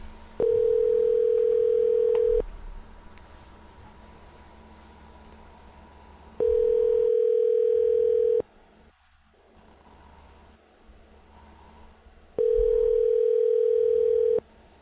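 A telephone call placed to a number gives three evenly spaced tone pulses, each about two seconds long with longer quiet gaps between, heard faintly over a low line hiss.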